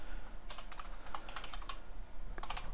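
Rapid keystrokes rattle on a computer keyboard in quick bursts with brief pauses, close and crisp, with no voices.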